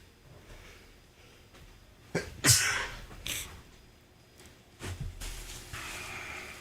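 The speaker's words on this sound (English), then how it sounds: "sneezing so much. It's driving me crazy. I hate sneezing." A sharp, forceful sneeze bursts out close by, followed later by a second smaller burst of breath against a quiet background.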